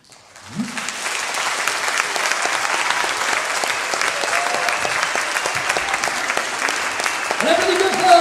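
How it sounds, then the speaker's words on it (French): Sustained, loud applause from a theatre audience for the musicians at the close of a Don Quichotte stage play. Dense clapping starts sharply and holds steady throughout, with a brief voice near the end. "On applaudit bien fort tous les musiciens"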